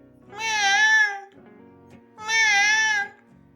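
Two drawn-out, wailing meows separated by a short pause, close and clear; the tone is so voice-like it may be a person imitating a cat.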